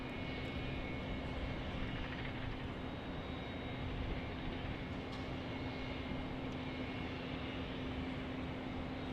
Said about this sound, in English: So again, a couple of departures on the west end here.